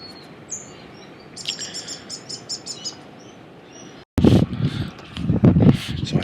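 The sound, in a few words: birds singing in the bush at dawn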